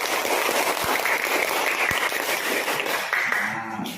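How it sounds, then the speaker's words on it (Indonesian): A classroom group claps for Felix's team, a dense steady wash of many hands applauding together at even loudness, thinning out in the final second. "Beri tepuk tangan untuk kelompoknya Felix."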